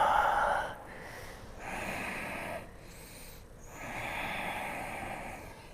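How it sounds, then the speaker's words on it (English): Slow, deep breaths during a yoga hamstring stretch, long airy inhales and exhales alternating in a steady rhythm, close and fairly loud with no talking. "A few more breaths."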